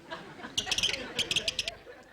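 An Audubon bird call twisted to make a string of bright, high chirping squeaks in a quick rhythmic burst, fairly close and fading out, with faint background murmur around it.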